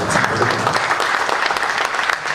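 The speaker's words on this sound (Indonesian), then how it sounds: "Kita berikan tepuk tangan." A crowd applauds steadily, dense and continuous throughout, with no voices rising above the clapping.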